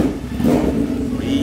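A Honda Hornet motorcycle engine idles and revs with a loud, steady, rough rumble close by, holding a constant growl throughout.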